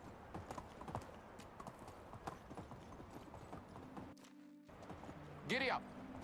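Horse hooves clip-clop in a steady trotting rhythm in the medieval survival game Medieval Dynasty, with a brief whinny near the end and a voice speaking over the hoofbeats.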